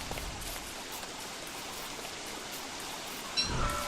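Steady rain in the video game Don't Starve Reign of Giants, a dense even hiss throughout with a slightly louder swell near the end.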